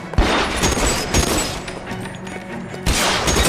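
Gunfire in the L.A. Noire video game: a dense shootout of sharp, loud gunshots with booming impacts, steady through the stretch and bursting harder near the end.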